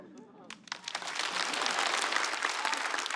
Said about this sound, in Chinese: 感到快乐你就拍拍手